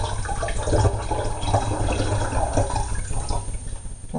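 Homemade ginger beer pours from a 1-litre jug into a 2-litre bottle, giving a steady close gurgling and splashing of liquid that runs throughout without pause, with no talking.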